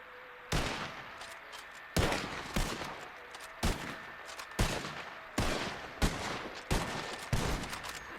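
Musket volleys fire by file in a video game: sharp gunshots crack out in a ragged rolling sequence, about a dozen reports in irregular rhythm, each ringing briefly before the next.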